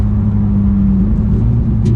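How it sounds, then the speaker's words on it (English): A 991 Porsche 911 GT3 engine rumbles close by, its pitch dropping in quick steps as the transmission downshifts while braking. "You can hear how quickly that transmission downshifts."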